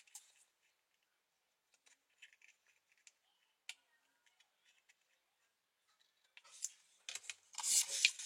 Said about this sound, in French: On va prendre les ciseaux.